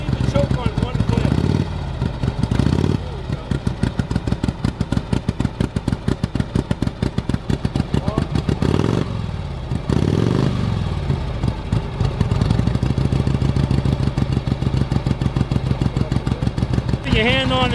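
A 1951 Harley-Davidson Panhead engine idles with a steady, loping beat that lasts throughout, briefly blipping louder a few times, heard close up with no talking over it.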